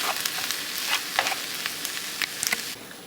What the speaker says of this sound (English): I'm gonna mix it before I put my crab meat in there.